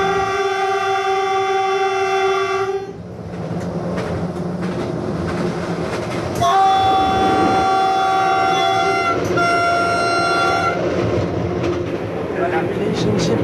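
A train with its locomotive in Da Nang, Vietnam sounds a long, loud horn blast, then rumbles past while a second horn blast rings out over the rolling clatter and background voices.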